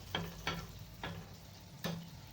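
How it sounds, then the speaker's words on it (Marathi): Anarse, a sweet made from rice flour, fry in oil in a kadhai. A quiet, steady sizzle runs under four brief scraping taps as the pieces are moved about. "असं हलवून हलवून आपल्याला छान असं ही अनारसे तळून घ्यायचेत आपले"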